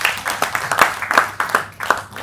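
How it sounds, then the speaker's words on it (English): A small audience at an investor gift-presentation event gives a round of applause, scattered claps landing in a loose, pulsing rhythm from a modest group at moderate distance. "Please, can you give her a round of applause,"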